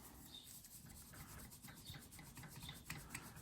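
A dishcloth rubs over a coin to clean its surface, a close, quiet, steady scrubbing with rhythmic back-and-forth strokes and no talk.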